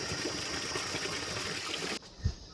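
Cold spring water pours steadily from a mountain spout in a Pahadi village, a close, full rushing stream that cuts off abruptly near the end, followed by a soft low thump.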